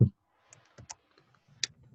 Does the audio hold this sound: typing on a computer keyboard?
yes